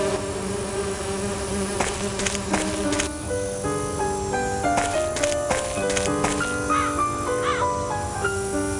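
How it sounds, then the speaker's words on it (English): Bees swarm around an artificial hive beside an apple orchard in a mystery adventure game, a steady insect drone under layered tonal game music with scattered chimes. "Subdue the bees first."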